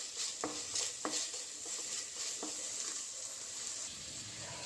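Okra (bhindi) frying in a pan for a tomato okra curry, a steady broadband sizzle with a few sharp clinks of a spatula scraping the pan early on, close and alone without talk.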